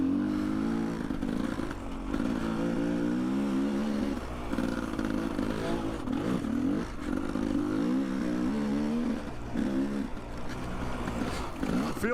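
A motorcycle runs steadily up close for the whole stretch, its engine droning and shifting pitch as the rider rolls on and off the throttle, with brief dips where revs drop between gears.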